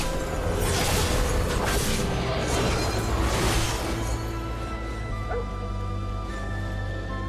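A dog barks and yips in the Black Desert video game, mixed into a dense, loud bed of game music and ambient effects, with no talking.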